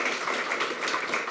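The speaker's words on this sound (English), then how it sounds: "let's give another round of applause for Marcin" Audience applause for the speaker Marcin at an Elixir Community meetup in Kraków, a steady, dense patter of many hands clapping throughout the short stretch.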